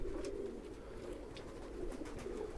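Quiet, low pigeon cooing rumbles on steadily and faintly, with no other sounds standing out.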